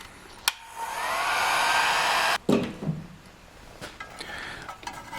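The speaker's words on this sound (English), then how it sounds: "put it over the terminal, and we're going to heat it up and shrink it in." A heat gun blows with a steady, close whooshing roar for about two seconds as it shrinks tubing over a wire terminal on a Harley Fatboy headlight, then cuts off, followed by clinks and handling sounds.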